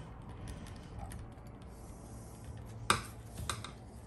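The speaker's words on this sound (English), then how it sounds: "we'll just go ahead, unscrew the cylinder" Faint small metallic clicks and ratcheting come from unscrewing the key cylinder of a Schlage Connect lock, quiet fiddling with a sharper click near the end and a couple of light taps after, with no talk.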